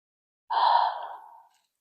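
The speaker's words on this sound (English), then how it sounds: "Nice breathing." A single slow, audible exhale during a gentle yoga pose, a breathy sigh that starts abruptly, holds for about a second and fades out, close and alone against silence.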